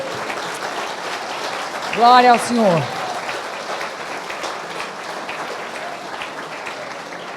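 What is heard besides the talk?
church congregation applauding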